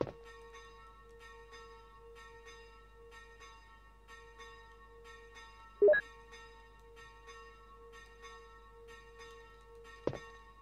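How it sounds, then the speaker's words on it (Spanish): Church bells toll in the Resident Evil video game, a sustained ringing tone with faint repeated strikes in an even rhythm and a couple of louder clangs, fairly quiet and with no talk. "Qué pesada las campanas, tío."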